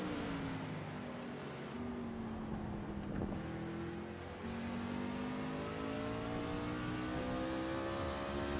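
Race truck engines drone at Martinsville in a racing video game. Several steady engine tones overlap and slowly rise and fall in pitch, forming a continuous, moderately distant roar with no pauses.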